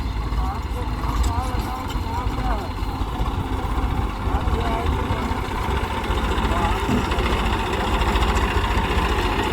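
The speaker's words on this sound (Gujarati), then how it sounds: "પાછું ટ્રેક્ટર રિવર્સ ગિયારમાં નાખ્યો આવે પાછું પાછું" A tractor engine drones steadily while reversing, low and continuous with a rumbling idle quality, as voices talk over it.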